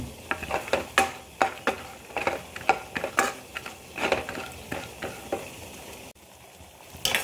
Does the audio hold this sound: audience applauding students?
no